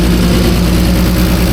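Old engine that sat outdoors behind a fence for three years, now started and running, a steady loud low rumble with faint hydraulic lifter ticking mixed in, no talk.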